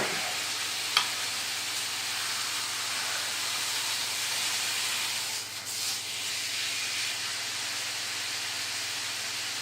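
Onion fries for a giant country-style hamburger, giving a continuous, even sizzle close by, with one faint clink early on and no voices.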